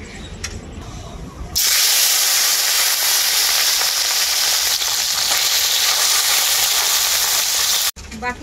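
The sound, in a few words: remaining fish frying in oil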